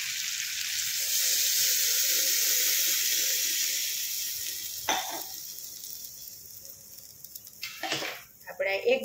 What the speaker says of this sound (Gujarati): આપણે એક ગ્લાસ જેટલું પાણી નાખ્યું છે.